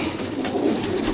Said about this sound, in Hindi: ए जनाब चेक करो ओरिजिनल कबूतर।